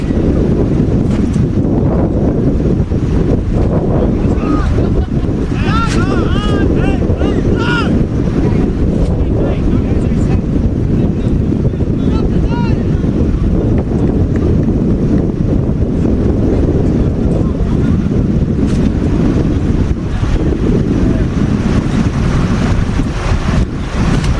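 Strong evening wind at an outdoor sports match in Newman roars and buffets the microphone in a constant loud rumble, with faint voices and crowd sounds barely audible beneath it.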